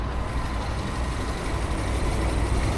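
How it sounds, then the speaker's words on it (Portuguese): Radiator cooling fan on a Subaru whose engine has overheated, a steady loud whirring drone mixed with engine noise, constant throughout without speech. "Na verdade eu vou esperar a ventoinha armar antes de sair"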